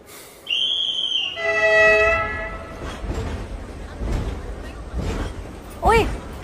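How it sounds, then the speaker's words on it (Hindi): A train goes by with a long horn blast at the start, then rumbling wheels and rail clatter continuing under scattered voices. "ओए, ट्रेन जा रही है।"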